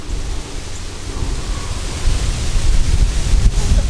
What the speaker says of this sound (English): So now it's really windy.